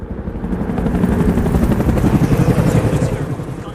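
Several military helicopters fly overhead in a disaster film, their rotors giving a loud, steady, close thudding drone that fills the whole stretch.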